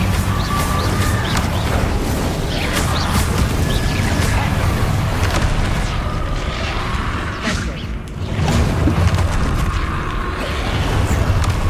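Bombarda explosion spells in Hogwarts Legacy, a steady barrage of loud booming blasts and crashing debris mixed with other spell effects, with brief voices calling spells throughout.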